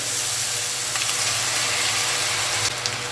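Spice paste hitting fried onions in a hot pan while cooking chingri bhuna, a Bengali prawn curry, gives a continuous, close, steady sizzle with a few brief crackles and stirring clinks.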